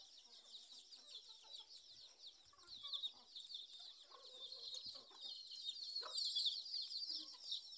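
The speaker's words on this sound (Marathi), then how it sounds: "कोंबड्या तर बघा किती इकडे तिकडे तरी चराय गेले त्या बघा." Free-ranging farm chickens cluck intermittently while foraging outdoors, with soft overlapping calls over a steady high-pitched chorus of insects or birds.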